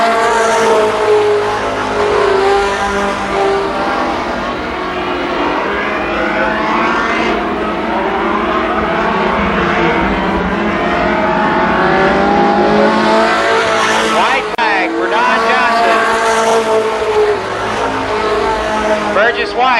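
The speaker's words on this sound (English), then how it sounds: "White and Shane Johnson go at it down the backstretch." Race cars roaring around the oval at Columbus Motor Speedway, a continuous loud engine drone with rising and falling pitch as the cars battle down the backstretch, under a track announcer's running commentary.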